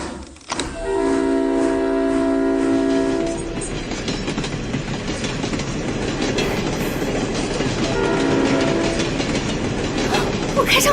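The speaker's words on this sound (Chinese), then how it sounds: "我真的开上火车了！" A steam train gets under way on rails, a sustained loud mechanical rumble with steady tonal hum or whistle-like tones near the start and again later, continuous throughout.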